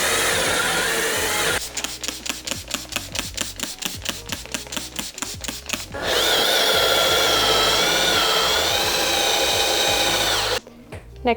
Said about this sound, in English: And then I'm going to use this drill brush to clean it.